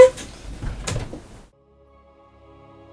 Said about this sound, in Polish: te drzwi tak strasznie skrzypią